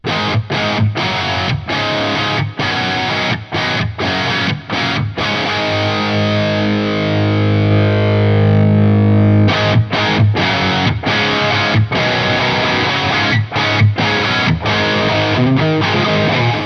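A heavily distorted electric guitar plays loud chugging chords with rhythmic stops, then sustains a ringing chord before the chopping rhythm returns; the guitar amp is recorded with microphones including a condenser.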